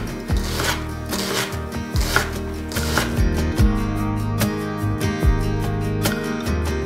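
Knife chopping a red onion on a board, steady rapid strokes in a busy rhythm with repeated louder cuts, close and fairly loud, with background music beneath.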